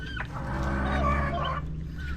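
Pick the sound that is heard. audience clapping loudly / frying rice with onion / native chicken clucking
native chicken clucking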